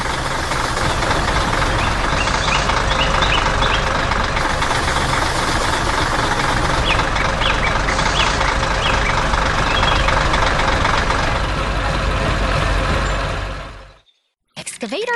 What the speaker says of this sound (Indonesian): Mesin berwarna kuning ini sedang bekerja keras, mengangkat material gelap di dekat truk pengangkut berwarna kuning